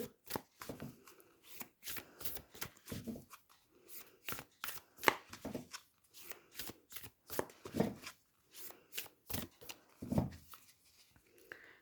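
A deck of tarot cards is shuffled by hand in quick bursts of crisp riffling and slapping, each burst lasting a fraction of a second in an irregular rhythm, recorded close with no talking.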